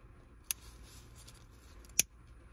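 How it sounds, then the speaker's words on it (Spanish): Scissors snip a ribbon being trimmed for a bow, two sharp, quiet cuts about a second and a half apart against a hushed room. "Vamos a cortarla de manera que quede un poquito más corta."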